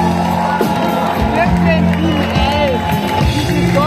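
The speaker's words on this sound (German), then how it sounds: "nochmal einen kräftigen Applaus für unsere Bedingungen" A crowd at a Volksfest in Neumarkt am Jura claps and cheers during a live band show, loud and continuous, with whoops and shouts mixed in and voices over the top.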